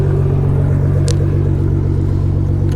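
A 2016 Nissan GT-R Premium with Boostlogic tuning idles with its engine bay open, holding a steady, even, close-up rumble. A couple of faint clicks sit on top of the idle, and nobody speaks.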